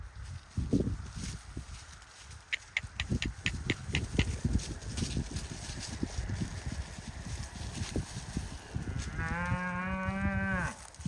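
Hooves clop and shuffle nearby for several seconds on a farm with sheep nearby, then a cow gives a long, loud moo close at hand.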